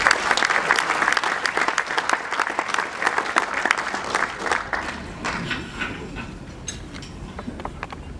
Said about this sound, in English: So she does deserve that applause.